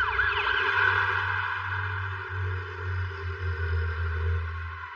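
A police car siren wails loud and close as the vehicle responds code 3 to a shooting call, a steady rising-and-falling tone over a low engine drone.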